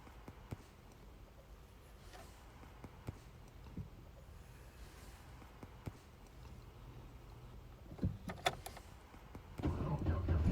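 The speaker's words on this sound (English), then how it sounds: "you'll notice that the car starts right up after just a few seconds" Inside a Chevy Silverado, scattered clicks and key knocks give way, near the end, to the engine catching and rising into a louder, steady running rumble.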